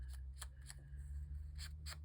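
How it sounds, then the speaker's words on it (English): An ink pad dabbed straight onto paper in a card-making session gives a series of quiet, crisp taps and pats, about seven in an uneven rhythm, over a low steady hum with no speech. "I'm just taking the pad directly to the"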